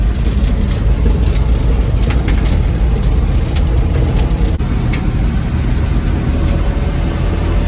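A 1978 Ford F-150 engine running loud and close, a thick, rough low rumble with a throaty exhaust that holds steady throughout, with no voices.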